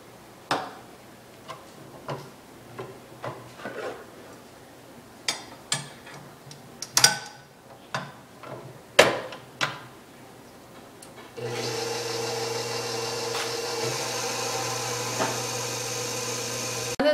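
After scattered quiet clicks and taps, an electric mixer starts on medium speed, beating jellyroll batter flavored with almond extract with a steady, buzzing whir that runs close and constant for several seconds.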